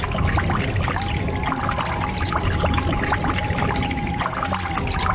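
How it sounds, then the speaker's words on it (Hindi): Cartoon-style water dribbling sound effect from a Hindi horror cartoon, a steady trickling and pouring stream running continuously and fairly loud with a thin whistling tone through it, no voices. "अरे क्या तुम्हारे नीचे से पानी कहाँ से आ रहा है?"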